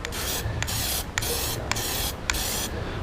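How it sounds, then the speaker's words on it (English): Repeated long hissing bursts from a spray can applying Plasti Dip to a Supra dashboard panel, close and steady, separated by short gaps with faint rattling clicks between sprays. "try to start spraying off the panel"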